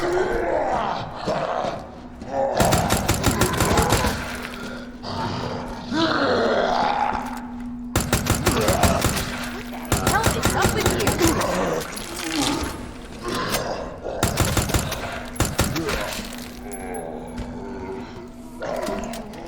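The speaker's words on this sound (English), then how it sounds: "time for us to use our submachine gun" Fully automatic submachine gun fire from Resident Evil 2 Remake comes in several loud, dense bursts a second or two long, separated by short pauses, with low groaning creature sounds underneath.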